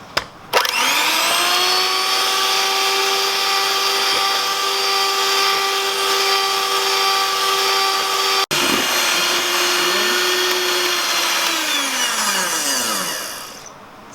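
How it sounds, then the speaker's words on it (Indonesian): An electric mixer whips cold cream straight from the fridge until stiff for a halal tiramisu, giving a loud, steady motor whine with one brief break midway before winding down at the end. "dari kulkas langsung kita kocok sampai kaku"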